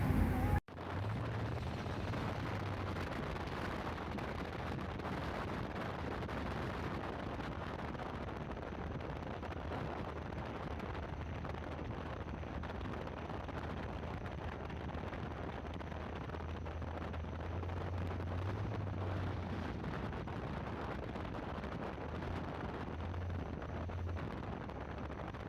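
A 1972 Monte Carlo A-body car cruising on the road, heard as a continuous broadband rumble of engine, tires and wind from inside the cabin, steady and loud throughout with a brief clatter at the start.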